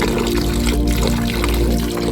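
Water poured and trickling into a vessel while cleaned river crabs are washed, a steady close splashing stream that runs unbroken for a couple of seconds without any talk.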